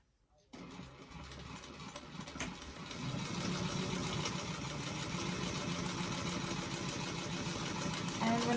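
A sewing machine stitching and backstitching a doctor bag starts abruptly, then runs as a continuous close motor hum that grows louder partway through and stays steady.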